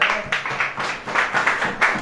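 An audience claps together at a devotional sermon, a steady burst of hand claps rising and falling in several waves for about two seconds, fairly close and dense with no talk over it.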